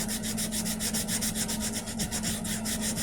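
Model rocket fins are sanded with steady back-and-forth strokes, a rhythmic, close scratching rasp that runs on without pause and has no talking over it.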